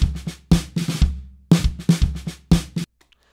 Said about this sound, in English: I've got a couple of very dry drum loops with no effect on them whatsoever.